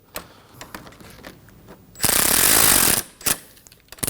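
A ratchet snugs down a 10mm battery terminal nut on a 2003-2006 Subaru Baja: scattered clicks and taps, then a dense one-second burst of rapid ratcheting, followed by a few more clicks.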